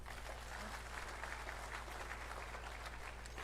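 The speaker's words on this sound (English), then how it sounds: "So clap for them" Faint, distant clapping from an audience at a university orientation and induction program, heard under a strong, steady electrical hum and buzz.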